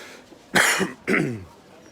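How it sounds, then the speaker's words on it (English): A man coughs twice in quick succession, close and loud, with a short pause between the two harsh bursts. "there's me coughing, coronavirus cough"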